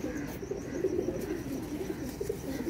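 Purebred flying pigeons kept for the Chaitra–Baisakh flying season coo softly and steadily from close by, a low murmuring drone running unbroken with no talk over it.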